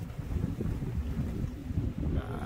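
Wind blows hard across a desert camp in the Saline Valley, roaring and buffeting the microphone in a continuous, gusty low rumble.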